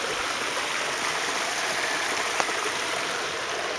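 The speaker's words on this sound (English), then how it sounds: "Japan was having a nice relaxing day by a brook." A brook's flowing water gives a steady, even broadband rush throughout, close and continuous with no talk.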